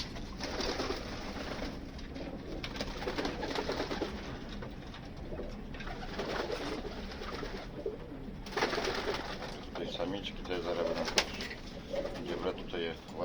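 Breeding pigeons coo steadily in a loft, a soft continuous murmur of several birds close by, with someone talking over them.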